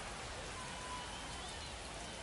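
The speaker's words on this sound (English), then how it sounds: "so far throughout the entire broadcast, the rain has been coming down" Steady rain coming down on a foggy night at a minor-league baseball stadium, a faint continuous hiss of drops with no other distinct sounds.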